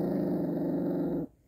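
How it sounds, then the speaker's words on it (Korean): A white Jindo puppy about one and a half months old growls while eating food, a close, continuous low rumble that ends abruptly, with no talking. "뭐 먹는다고 으르렁거린다"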